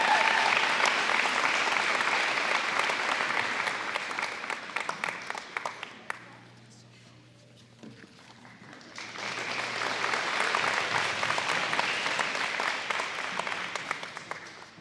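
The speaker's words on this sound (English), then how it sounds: "Let's give her a round of applause," Audience applause at a high school local scholarship night, a sustained burst of clapping that fades out briefly around the middle, then swells again and carries on steadily to the end.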